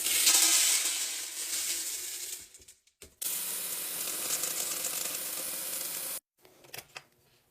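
LECA clay pebbles pour into a big pot as a loud, dense rattling rush in two long bursts with a short pause between, followed by a few scattered clatters.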